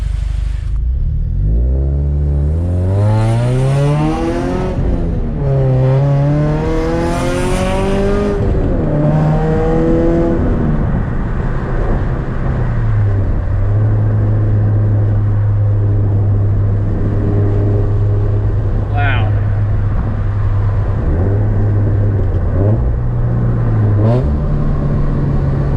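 A Scion FR-S with a TRD cat-back exhaust revs repeatedly, its loud engine note climbing and falling through several sharp pulls before settling into a steady, droning idle for the rest of the stretch.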